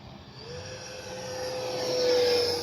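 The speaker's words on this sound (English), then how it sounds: "A nice flyby right at us." A radio-controlled T-33 model jet makes a flyby: a turbine whine with a steady high tone swells as it passes close, peaking near the end. No one speaks.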